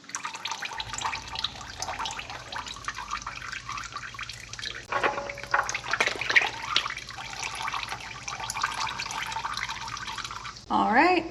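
Engine oil from a Nissan 370Z trickling and dripping into a drain pan during an oil change, a steady soft liquid patter with a voice intermittently in the background.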